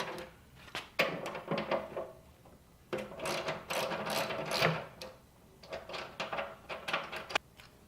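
A socket wrench with an 11mm socket breaking loose the backrest bolts on an Indian motorcycle, giving close, loud bursts of ratcheting and metallic clunks in uneven spells, with short pauses between efforts.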